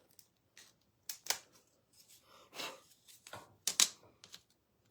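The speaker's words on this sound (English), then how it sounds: "So let me just go in and cut some off." Scissors make several quick, crisp snips as they cut through material, in short irregular bursts with quiet gaps between them.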